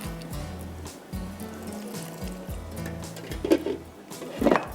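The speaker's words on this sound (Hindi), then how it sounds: "दूध मैं अभी डाल देती हूँ" Milk pours into a pan of thick prawn masala, a gurgling liquid stream over a low steady hum, with a few louder splashy bursts near the end.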